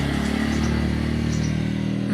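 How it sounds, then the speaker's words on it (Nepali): A scooter engine on a road, a steady close mid-pitched motor hum holding constant without clear revving or a pass-by. "त्यहाँबाट स्कुटी आउँदैछ।"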